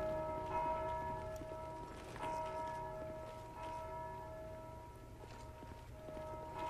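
A bell in Dark Souls 2 rings out with a sustained, resonant metallic tone that decays slowly across the whole stretch, with no talking.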